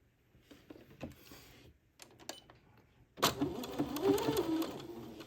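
A sewing machine runs the first pass of a French seam with an eighth-inch allowance: quiet handling first, then a steady, fairly close mechanical hum for the last two seconds, with no voices.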